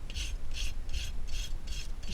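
A farrier's rasp smooths a horse's hoof during cold shoeing, taking off flares in six even, scraping strokes at a steady rhythm, close and alone.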